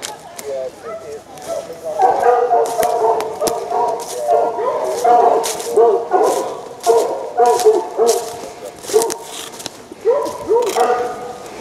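Hunting hounds bay at a fox earth in Kent countryside with a run of repeated close yelps, barks and whines, loud and irregular across the whole stretch.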